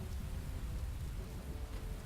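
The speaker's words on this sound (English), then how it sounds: "Oh, the good rain." Steady rain in the video game Neverwinter Nights, a continuous soft hiss of falling water with no breaks, heard alone at low volume.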